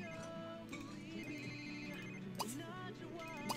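A ringing phone in The Sims 3 chirps with a warbling electronic ringtone over busy game music and ambient effects, fairly quiet and continuous across the few seconds.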